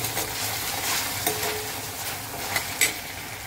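Onion, green chilli and ginger-garlic paste fry in a pan with a steady sizzle, broken by a few sharp scrapes as a spoon stirs the mixture; no one speaks.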